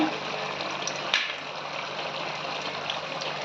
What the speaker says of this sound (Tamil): இப்போ எண்ணெய் காஞ்சிருச்சு இப்போ இந்த பொடி பொடியாக வெட்டி வச்சு பூண்டை போட்டுக்குங்க